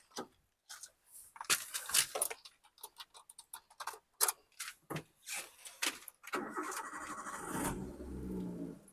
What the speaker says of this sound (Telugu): వెహికల్ ఒకసారి ఇంజిన్ కూడా స్టార్ట్ చేసి చూపిస్తాను